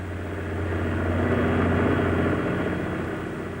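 An RAF rescue helicopter flying over the sea during an air-sea rescue, a continuous droning engine and rotor roar that swells louder through the middle, then eases slightly.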